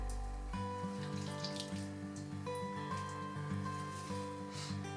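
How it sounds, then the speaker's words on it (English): Water pours steadily from a tap or can onto freshly transplanted plants, a continuous close gush with faint splashing over a low hum, no voices. "Watering after transplanting is essential for a smooth transition."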